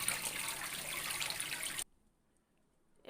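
Snake gourd and potatoes are rinsed in water with a steady, close splashing trickle that stops abruptly partway, leaving near silence.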